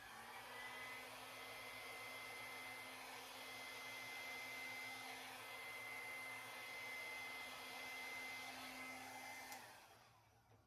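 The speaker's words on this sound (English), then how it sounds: "Let me use the hair dryer to just kind of move this out." A hair dryer blows steadily at close range on acrylic paint, with a constant whirring hum, then cuts off near the end.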